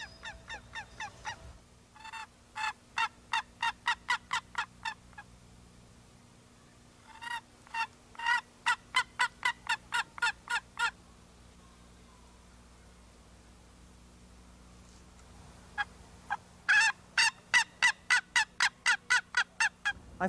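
Wild turkeys in the woods calling in three long rhythmic series of loud, evenly spaced honking notes separated by quiet pauses, fairly close and clear over faint background hiss.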